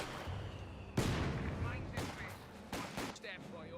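Gunfire and explosive bursts in the World War II strategy game Company of Heroes 2, with sharp loud blasts and scattered shots over a continuous battle din, while a commentator talks throughout.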